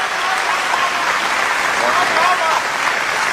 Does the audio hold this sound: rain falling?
no